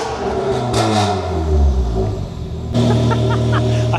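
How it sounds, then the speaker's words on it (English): Used hatchback fitted with a GTT exhaust and Jan Speed manifold, revved hard: a loud, close blip that climbs and falls in pitch, then a second rasping rev with clattery crackle on the overrun. "It's got a GTT exhaust on, which I wouldn't sell a car with this exhaust on, but they are quite sought after."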